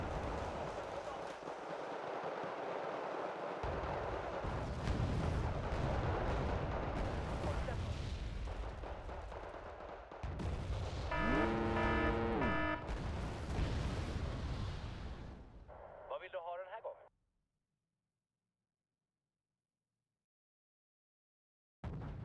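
Machine gun fire in the real-time strategy game Wargame: Red Dragon, sustained loud rattling bursts and distant artillery-like thumps over several seconds, ending in a short tonal game cue and then near silence.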